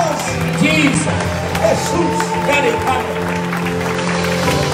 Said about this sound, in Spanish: No, no, denle el aplauso más fuerte.